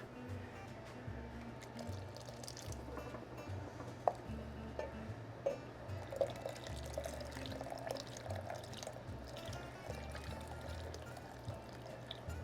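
Whole milk, about two cups, poured into a pot of corn chowder, a steady soft liquid stream running throughout at low level with faint clinks.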